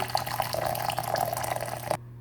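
Hot water pours into a glass for a pickled onion marinade, a steady close splashing trickle for about two seconds before it stops abruptly.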